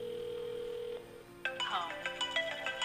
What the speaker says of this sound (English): Now we'll call and see if it rings.